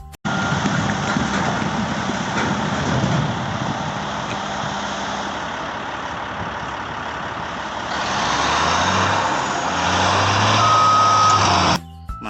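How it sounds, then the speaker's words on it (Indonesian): A sand truck reverses with its beeper sounding, steady repeating beeps over a rumbling engine that grows louder and nearer toward the end. "ada truk pasir"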